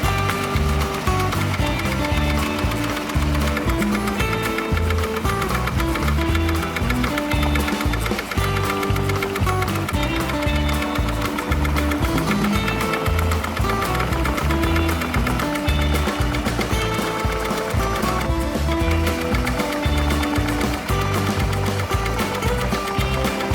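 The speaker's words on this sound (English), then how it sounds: "I'm gonna put the machine back on automatic, so that it could do the rest of the letters" An embroidery machine runs on automatic, stitching letters onto a leather appliqué patch with 3D puff foam, a loud, fast, steady mechanical needle rhythm continuing throughout without pause.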